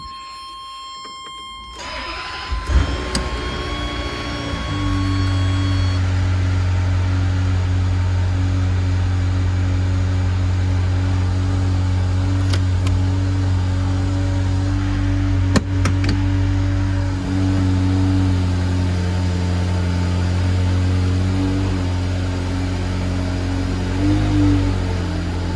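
A BMW E30 325iS, an older car, starts up after a few short warning chimes. The engine cranks briefly, then catches and settles into a loud, steady, rumbling idle that stays constant close by.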